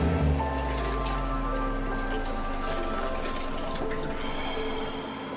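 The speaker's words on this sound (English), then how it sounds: "I'm gonna strain the noodles real quick" Pasta water pours steadily through a strainer as cooked noodles are drained, a continuous close rushing splash that tapers off slightly near the end.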